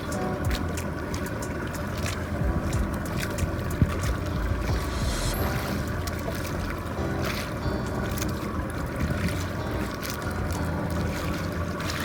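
A fishing boat out at sea in strong wind and a running current gives a steady, loud broadband rush of wind, water and hull noise that continues unbroken, with no talking.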